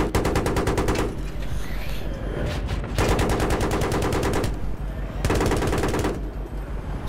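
Rapid automatic gunfire in Battlefield 3 comes in three loud sustained bursts, with short gaps of scattered shots and battlefield noise between them.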